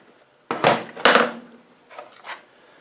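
A steel gear from an LT77S gearbox is dropped onto its shaft in a workshop, giving two sharp metallic knocks about half a second apart, followed by fainter rattles and scrapes as the part settles.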